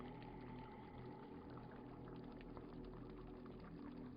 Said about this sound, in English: I hear bubbles.